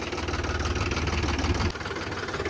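A tractor engine idles and chugs steadily in a sugarcane field, a close, loud, rhythmic low-pitched knocking that dips slightly partway through, with no voices over it.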